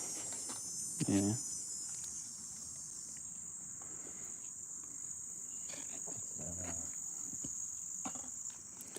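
Insects, cicadas or crickets, buzz steadily as a high, continuous shrill in the outdoor background, with a couple of brief voices talking faintly over it.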